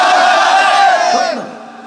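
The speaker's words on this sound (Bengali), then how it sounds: "একটা তাকবীর দেন, লিল্লাহি তাকবীর" A large crowd at a religious sermon gathering shouts the takbir, Allahu Akbar, in unison: a loud, sustained, massed cry that fades away toward the end.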